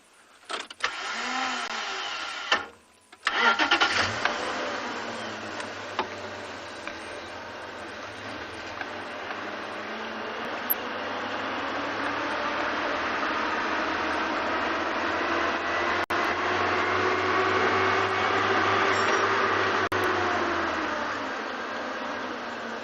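A safari vehicle's engine starts after a brief burst of noise, then runs at a low, steady hum that slowly swells and fades over about twenty seconds, with no talking.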